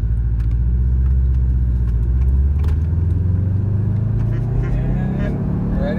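A car engine hums loudly and steadily as a father teaches his blind, autistic son to shift gears, the rumble rising in pitch toward the end as the car pulls away in first gear; no one speaks.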